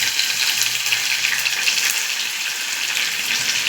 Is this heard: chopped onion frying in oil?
yes